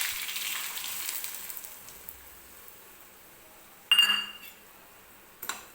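Semolina roasting in ghee in a pan for mango sheera, a soft sizzle that fades to a quiet background, broken by a sharp clink of a utensil against the pan and a later brief scrape.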